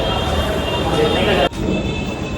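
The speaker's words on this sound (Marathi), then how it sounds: "तर आपली ट्रेन आहे सौराष्ट्र जनता तेवीस अठरा" Steady, loud rolling rumble from inside the Saurashtra Janata Express passenger train on a Bharuch to Dadar journey, with a faint high whine above it and a brief dip in the noise partway through.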